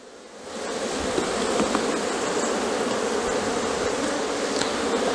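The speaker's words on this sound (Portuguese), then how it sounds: "Bate fumaça aí, Tainan. Pra abelhas descer." Dense, continuous buzzing of many bees around a honey-filled hive, fairly close and steady, with a soft hiss of air behind it and no voices.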